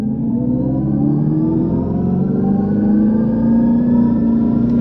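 A 2025 Dodge Charger Daytona R/T Stage 1 in sport mode accelerates hard under full throttle with power shot engaged. A loud, close droning tone climbs steadily in pitch throughout, with no talking.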